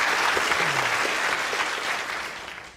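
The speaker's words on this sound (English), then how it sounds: "I think a round of applause for our planet hunter." A lecture audience gives a round of applause for a young planet hunter at a science talk on life beyond Earth. The clapping is dense and steady, then fades gradually over a few seconds.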